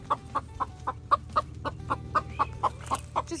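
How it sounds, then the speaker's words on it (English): An escaped farm chicken clucks in a steady, evenly spaced series of sharp, close clucks, about a dozen over a few seconds, against a quiet low outdoor background. "So this is the chicken that's escaped for today."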